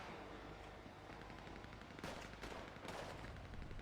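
Bursts of automatic gunfire in a GTA V roleplay game on NoPixel 3.0, with rapid volleys that intensify around the two-to-three-second mark, close and loud with no talk.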